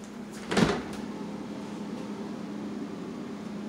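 A single close thud as a refrigerator door is pulled open, followed by a steady low appliance hum.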